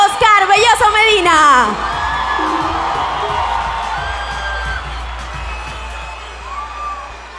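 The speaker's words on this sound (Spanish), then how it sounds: "Vamos a recibir con un fuerte aplauso" A university crowd shouts and whoops loudly for a speaker, then the noise settles into a sustained cheering murmur with a few whistles rising over it.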